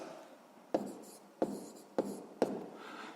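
Four distinct pen or pencil strokes tap and scratch on paper at a steady pace, like notes being written by hand during a sixth-grade maths lesson, close and fairly quiet with no talk over them.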